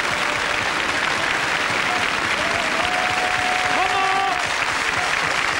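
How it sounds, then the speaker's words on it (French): A French TV studio audience applauds in dense, loud, sustained clapping, with a brief whistle-like tone rising over the crowd partway through. "Vous pouvez applaudir ce train."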